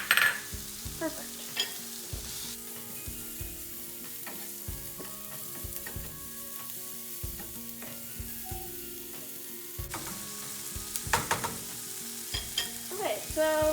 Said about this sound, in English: we'll start putting in a little bit of bacon